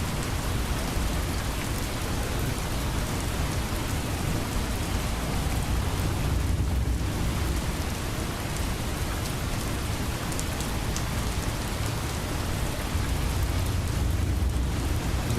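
Steady rain pours down with a dense, even hiss and patter for the whole stretch, loud and continuous with no voices and only slight swells in intensity.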